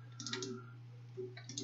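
A computer mouse clicking while a Canon LBP2900 printer driver is installed on Windows 10: a few quick, soft clicks in two small clusters over a steady low electrical hum.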